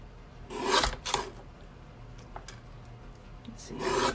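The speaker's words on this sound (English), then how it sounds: "I usually just trim just a little bit off of all of the edges" A small hand paper trimmer slices a little off the edges of card stock, giving a few short, crisp scraping swipes close by, separated by quiet gaps.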